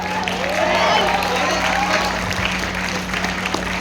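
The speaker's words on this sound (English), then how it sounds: "Clap for Arpit, clap for Arpit." A seminar audience at a fashion-industry career counselling session claps for a student speaker, with a dense, steady patter of applause mixed with a few voices in the room.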